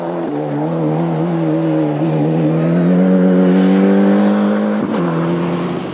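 A Ford Escort rally car with no working brakes on a Welsh forest stage roars past close by, its engine holding a strong, steady, rising note before a brief gearshift blip near the end.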